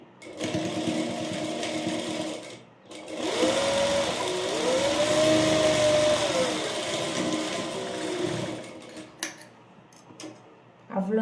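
Close and loud, a sewing machine joins a seam on a jabla in two long continuous runs of rapid whirring stitching, separated by a brief pause and followed by quieter handling clicks.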